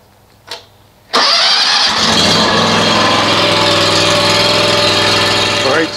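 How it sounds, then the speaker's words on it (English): A 2019 Wright 36i stander mower has a short cranking burst, then the engine catches and settles into a loud, steady, close-up running drone that continues with no break. "now we're going to run the engine and let it circulate the oil"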